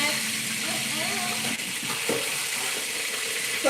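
Potato wedges frying in a pan, making a continuous sizzle with occasional clinks and stirring noises, fairly close and alone.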